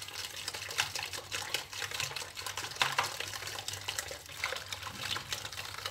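Warm water is poured into cake batter in a bowl as a soft, continuous splashing trickle, faint and steady, with scattered light clinks and no voices.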